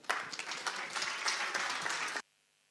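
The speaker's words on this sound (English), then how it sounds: "Please applause for her." An audience at a Moldova–Romania business conference applauds a speaker coming on stage, a full, dense wave of clapping that stops abruptly into silence.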